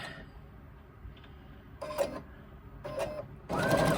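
A sewing machine top stitching a crossbody bag runs in three short bursts, the last one longest and loudest, with quiet pauses in between.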